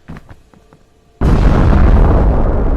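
A few faint clicks, then a sudden loud explosion in the video game PEAK bursts in and roars on with heavy rumbling, dense and sustained.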